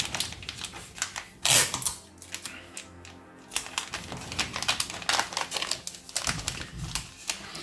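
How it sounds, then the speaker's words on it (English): A plastic paperback bag is folded and handled, making close crinkling and crackling rustles in irregular bursts with a louder crumple near the start. "I'm going to fold the bottom bit over"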